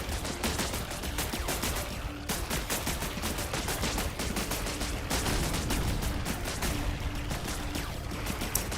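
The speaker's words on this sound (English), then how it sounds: "I see explosions." Dense bursts of gunfire and explosions from the video game Buggos crackle without pause, loud and close, with a few sharper blasts standing out from the steady barrage.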